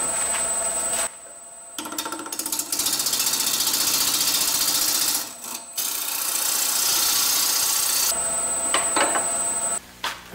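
A wood lathe spins at 1000 RPM while turning a wig stand, giving a steady close whir and scraping grind with a high whine. It breaks off into brief gaps before starting up again.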